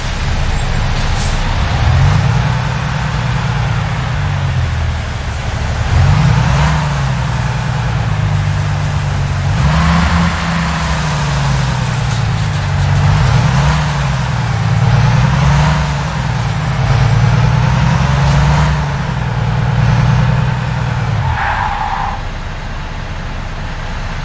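Heavy truck in American Truck Simulator with updated brake control, showing a steady loud engine drone that rises and falls repeatedly as it slows and pulls, plus a brief hiss near the end.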